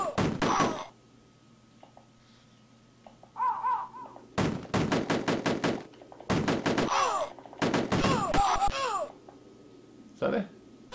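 Cannon Fodder on the Commodore Amiga plays its gunfire as rapid bursts of sharp digital shots, each run lasting a second or two, with quieter game sounds in the pauses between bursts.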